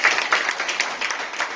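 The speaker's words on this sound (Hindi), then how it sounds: "तो ऐसे जज्बे वाले मुखिया जी को एकदम जोरदार ताली से स्वागत करें।" An audience at a birth anniversary ceremony for martyr Jagdev Babu in Nalanda district gives a guest a burst of applause, close, lively clapping with a few uneven surges over a short stretch.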